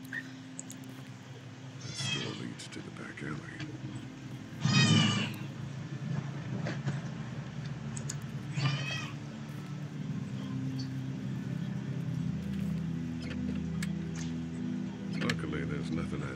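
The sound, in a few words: cat meowing in the room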